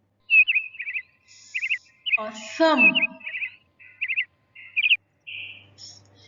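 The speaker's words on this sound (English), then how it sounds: "the cries of a peacock is called squawk" A peacock gives one harsh, descending squawk in the middle, surrounded by quick repeated high chirps from other birds; one short spoken word breaks in.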